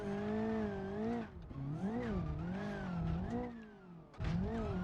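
A car accelerates hard in BeamNG.drive from a launch in first gear, its engine revving up and down in rising, wavering pitches as the tires squeal, loud and close, with a short dip before another surge.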